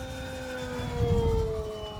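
An electric RC pylon racer plane, a Magic Bird, makes a downwind pass with a steady high motor-and-prop whine that dips in pitch as it goes by, moderately loud and continuous.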